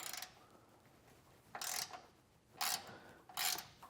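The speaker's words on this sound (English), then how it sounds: "get all those taken loose, and that'll be a 12mm socket to remove those" A ratchet with a 12mm socket loosens bolts on the outside of a 2024 Toyota's frame during a rear suspension install, giving three short clicking bursts at intervals with a quiet gap between them.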